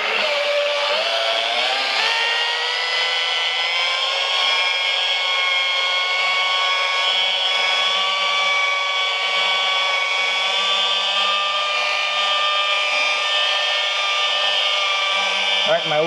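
A machine polisher running at about 1,005 RPM removing swirl marks from car paint with light pressure: a steady, fairly loud high whine with a constant hum that holds throughout, shifting slightly in pitch at the start.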